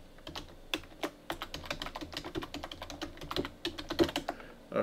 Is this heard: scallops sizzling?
no